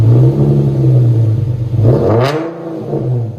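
An Infiniti G37's 3.7L V6 with an aftermarket exhaust rumbles loud and close at idle, then gives one short rev that rises and falls before dropping back to a deep, steady burble.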